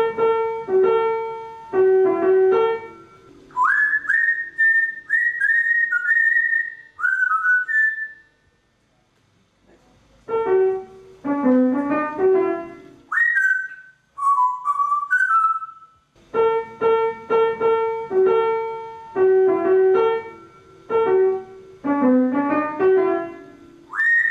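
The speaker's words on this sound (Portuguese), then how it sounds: "Escuta só ele assobiando enquanto imita aquele piano sem nenhum esforço." An African grey parrot whistles a clear melodic tune in bright, piano-like phrases, pausing briefly between runs of notes, loud and close with no talking.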